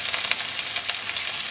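Tender jackfruit pieces sautéing in a generous amount of coconut oil in a pan over low flame, giving a steady, close bright sizzle with faint crackles throughout, no voices.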